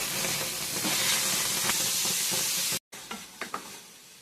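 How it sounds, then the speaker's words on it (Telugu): Chopped tomatoes hit hot oil in a pan with a loud, dense sizzle and hiss, followed by a short gap and then softer crackling with a few stirring clatters. "టమాటాలు వేసుకుందామండి, ముక్కలు చేసింది"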